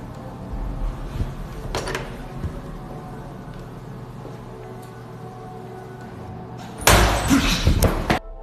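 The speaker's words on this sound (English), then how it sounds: "suddenly, it slams shut with force like something violently closed" A door slams shut with force near the end, a loud sudden bang after a stretch of quiet room tone with a couple of softer knocks and thumps earlier.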